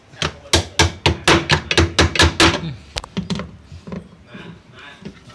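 A hammer taps steadily on a Samsung top-load washing machine during repair, about a dozen sharp, loud knocks in quick rhythm, then a few scattered softer taps fading into background noise.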